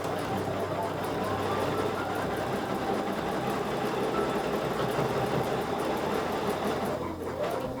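Sewing machine stitching through a heavy quilt, a rapid, steady mechanical whir and needle chatter running close and continuous, easing off briefly at the end.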